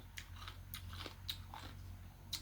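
Crisp bites and chewing on a crunchy green mango with a firm, crackly peel, several sharp crunches spaced over a low steady background, close and fairly quiet.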